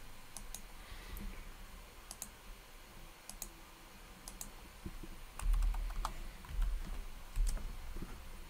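Sharp, dry clicks of a computer mouse during software configuration, scattered irregularly across the span at close range, with light clatter and no talking.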